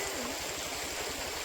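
A village river in Mahabaleshwar rushes steadily past, a continuous broadband wash of flowing water that stays even and fairly loud for the whole short stretch.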